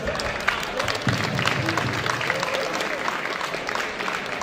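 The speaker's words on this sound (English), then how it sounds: "So big applause for Jodin and Lynn one more time." An audience at a weightlifting competition applauds steadily throughout, a dense wash of clapping from a crowd, with an announcer's voice faintly mixed in.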